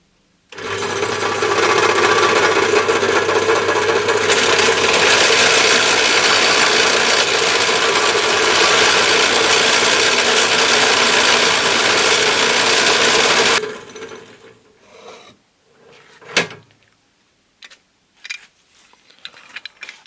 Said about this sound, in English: remember, let the drill do all the work